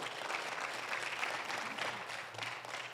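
A church congregation applauds in praise during a bilingual Spanish-English service, a soft, steady wash of clapping held at a distance throughout.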